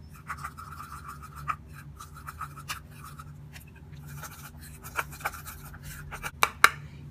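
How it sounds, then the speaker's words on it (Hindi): Homemade face pack ingredients are stirred into a paste in a small bowl, making soft, steady scraping and swirling scratches close by, with a few sharper clicks near the end and no voices. "और इन सब चीज़ों को हम मिक्स करेंगे"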